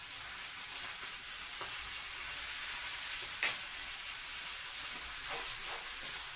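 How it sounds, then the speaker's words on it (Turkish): Ground meat, chopped tomatoes, pepper paste, spices and salt fry in a pan for a minced-meat potato dish while being stirred, giving a steady close sizzle with occasional soft scrapes and clinks. "Bir güzel yedire yedire karıştırıyorum."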